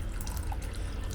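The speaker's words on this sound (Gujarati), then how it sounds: "અને હવે થોડું પાણી નાખીશું, થોડું જ," A small amount of water is poured into simmering kofta gravy in a cooking pot, a brief, close splashing hiss over a low rumble.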